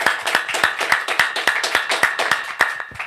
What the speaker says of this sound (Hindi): धन्यवाद देंगे तालियों के साथ।